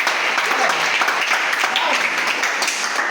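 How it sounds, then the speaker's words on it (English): Children applauding during a lesson about animals, a loud, dense and steady burst of clapping filling the whole moment without pause. "Please clap for me."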